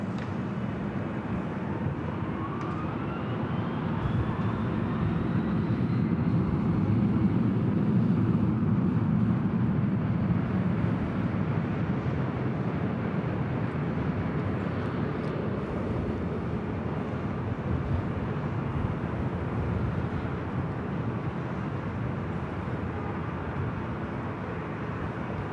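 An airliner takes off from runway 24 left at LAX, a steady broad engine roar that rises slightly and then holds, heard from a distance for the full stretch.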